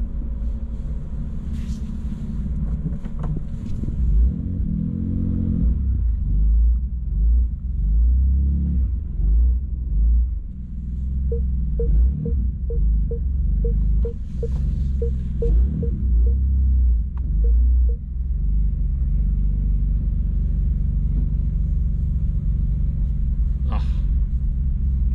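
A rebuilt BMW M2 engine idles and rumbles deeply while the car is slowly maneuvered and turned around, with a few light revs, a run of rapid ticking chimes and brief speech from a man.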